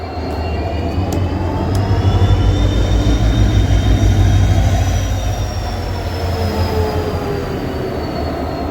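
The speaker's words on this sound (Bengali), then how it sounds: "ফাইনালি আমাদের এই ট্রেন এখন 570 কিলোমিটার জার্নি কভার করার পর আমাদের বক্তব্য লাস্ট স্টেশন লিডো এসে জাস্ট অ্যারাইভ করেছে" A train drawn by a single locomotive rolls into Ledo station at the end of a 570 km run from Guwahati, wheels clattering loudly and steadily with thin high squeals over a deep rumble, no voices.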